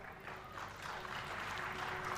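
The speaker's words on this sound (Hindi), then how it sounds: "क्या हुआ अभी जो आपने ताली बजाई?" An audience claps steadily in a dense, continuous wash of applause at a Hindu devotional storytelling gathering, sustained at an even level throughout with no clear voices.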